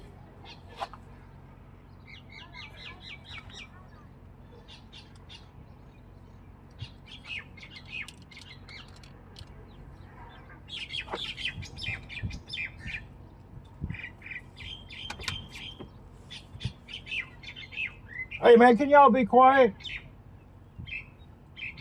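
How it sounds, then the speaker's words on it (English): Small birds chirp and squawk repeatedly nearby, with someone talking over them and a louder burst of calls near the end. "Them little birds won't shut up."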